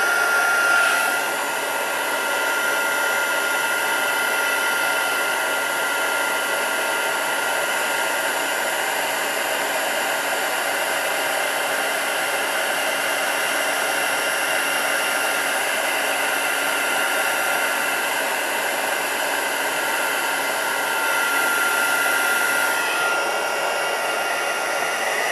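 A heat tool blows steadily for heat embossing a stamped Christmas rose card, a loud, continuous, close, hair-dryer-like whoosh with a faint whine that runs almost unchanged before cutting off near the end.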